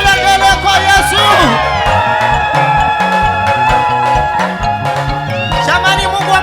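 A church congregation ululating in praise during a service, loud continuous high trilling cries over music and a crowd, with voices shouting throughout.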